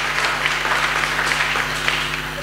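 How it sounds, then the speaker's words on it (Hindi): A church congregation applauds during a Hindi-language sermon, a loud, steady burst of many hands clapping over a low constant hum, continuing evenly for a couple of seconds. "जोरदार तालियां खुदा के जलाल के लिए"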